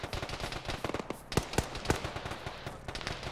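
Distant gunfire in the Arma video game, incoming from the south: rapid, uneven bursts of sharp cracks and pops, fairly faint and far off, with a few louder single shots standing out.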